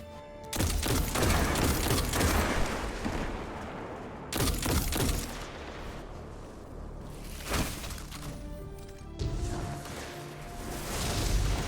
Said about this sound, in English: And here I'm just going to sword the rest of these enemies